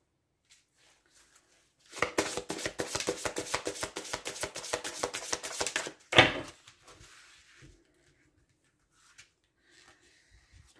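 Oracle cards being shuffled by hand: a fast run of crisp, papery flicks for about four seconds, closing with a single thump, then near silence with a few soft taps.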